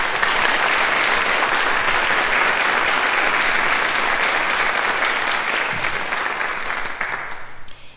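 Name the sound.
audience applauding the mayor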